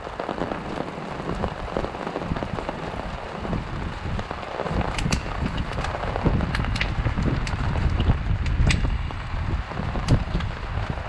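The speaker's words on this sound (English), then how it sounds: "it is pouring down rain." Heavy November rain pouring down steadily at a campsite in Washington, with loud drops spattering close by on surfaces and a dense, continuous hiss.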